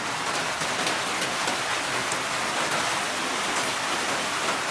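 Steady rain falls in a rural Thai field during a planting day, a dense, even hiss of drops close by with no pauses and no voices.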